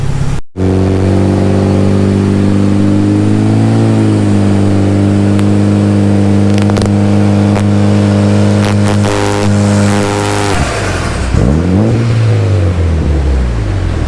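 A Mitsubishi Evo 9 MR running E85 with bigger injectors sits on a tuning session, its engine holding a loud, steady high rev. Near the end it drops away, then briefly revs back up.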